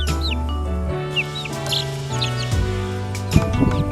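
Chickens cluck and chirp close by on a farm while young roosters let out rough, cracking attempts at crowing, over a background of tonal hum.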